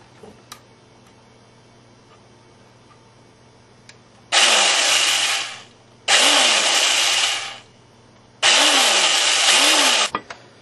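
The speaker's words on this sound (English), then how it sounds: "So I'll finish drilling these up." A power drill whirs through metal in three separate bursts of a couple of seconds each, loud and close, separated by brief pauses with faint ticking, drilling holes for a stove.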